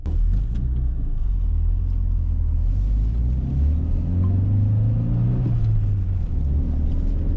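A Nissan Laurel Altima engine drones steadily at about 4000 rpm climbing a steep hill, its pitch rising and falling slightly under a constant low rumble, close and loud throughout.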